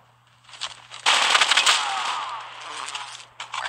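Rapid automatic gunfire bursts from Call of Duty Mobile's Wild West update, a loud sustained rattle after a brief quieter lead-in, with clicks of mechanism near the end and no talk.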